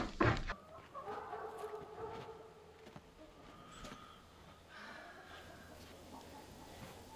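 Newly brought home hens cluck softly in a coop, a few scattered nearby clucks and murmurs over low background noise after a sharp bump at the start.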